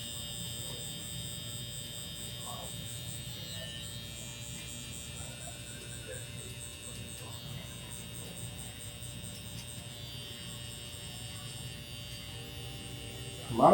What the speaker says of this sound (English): I'm going to do that with my trimmer.